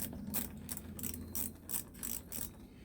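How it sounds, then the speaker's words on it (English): A 7mm socket ratchet clicks in quick bursts, close and crisp, loosening the intake ducting on a Mercedes, with about eight ratcheting strokes and no talk. "Use a flathead screwdriver for this, but I use a 7mm socket."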